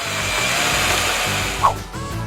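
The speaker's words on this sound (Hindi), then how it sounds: "मैं इस ड्रिल की सहायता से इसमें छेद कर दूंगी।" An electric drill whines steadily as it bores into a stuck jar lid, with a brief squeaky spike near the end before the motor hum resumes.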